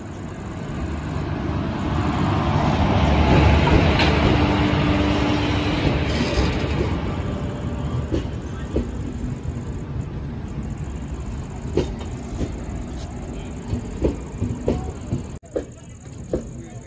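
A superfast train bound for Mangalore runs along the track, a loud continuous rumble and rolling roar that gradually settles into a steadier hum with scattered clacks and knocks toward the end.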